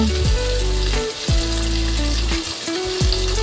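Tomatoes and green chillies sauté in a pan for drumstick soup, giving a close, continuous sizzle broken by scraping stirs at regular intervals, with no one talking.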